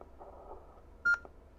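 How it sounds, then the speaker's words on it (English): A Yaesu DR-2X repeater gives a single short, clear electronic beep when a radio keys up, standing alone over a faint background hum. "you heard the single beep"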